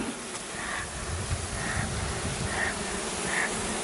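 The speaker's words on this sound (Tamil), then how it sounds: "தேனீ வந்து உள்ளே விழுந்துருங்க" A honeybee swarm, smoked and caught, gives off a dense, continuous buzzing close by, steady throughout with a few louder passes of single bees near the listener.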